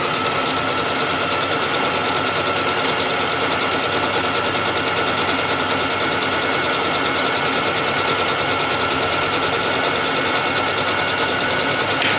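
A Brother JV1400 sewing machine stitching fabric, its motor giving a steady, rapid mechanical whirr with a continuous high whine at close range from start to finish.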